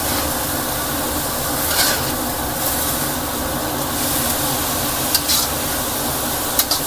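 Young papaya frying in a pan with a splash of soy sauce, giving a steady close sizzle and crackle throughout, with a few brief sharper clinks of a utensil against the pan near the end.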